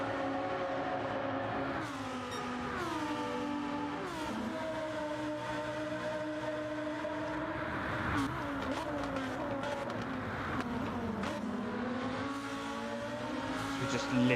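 Lamborghini Trophy race cars in a sim racing game roar steadily, their engine notes rising and falling through gear changes. The close, continuous engine drone runs under faint commentary voices.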